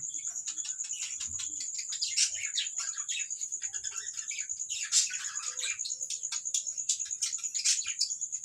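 A flock of budgerigars in an aviary colony chirps busily and constantly, high quick calls overlapping close by with a few louder bursts of chatter.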